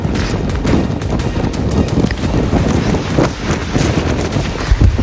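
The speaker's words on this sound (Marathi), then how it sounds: "तुम्हाला आवाज तर येत असेल कॅमेऱ्यामध्ये किती जोरात वारा असेल ते" Strong wind buffets the microphone on Kalsubai mountain peak, 5400 feet up in Maharashtra, a loud, constant rumbling roar with gusty surges and no clear talking.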